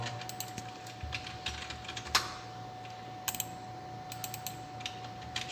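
Typing on a laptop keyboard, a quiet, irregular run of soft key clicks in short bursts with a sharper tap in between, over a faint steady hum.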